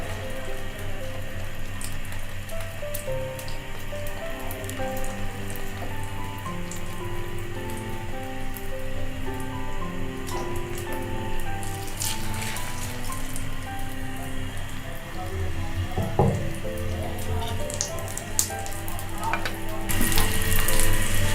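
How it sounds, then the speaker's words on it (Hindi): Egg-dipped shami burger patties sizzle on a tawa over a low flame, a steady crackling fry that carries on throughout, with a brief clatter near the end. "अब हम इसको तवे पे रख लेंगे। हल्की आंच पे आपने टिक्कियों को बनाना है।"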